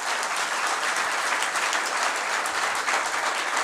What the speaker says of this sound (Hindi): ताली की आवाज इतनी आए कि दूर तक जाए